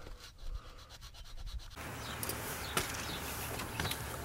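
A hose fitting on a Powerstroke 7.3 diesel engine being scraped, giving a steady close rough rasp that turns into a louder continuous scratching midway, with no talking.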